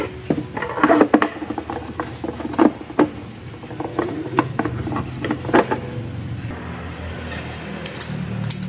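Small clicks, taps and scraping rattles come from unscrewing and prying open an old speaker casing, close-up and irregular, with sharper knocks in the first half and a softer rustle toward the end.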